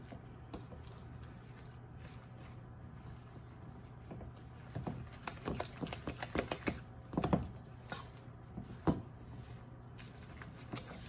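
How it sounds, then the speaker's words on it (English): Baked artichoke dip is stirred in a bowl with a spatula, giving soft, wet squishing and light tapping clicks that cluster in the middle and trail off, all faint and close over a low background hum. "give it a stir. Mix it all together"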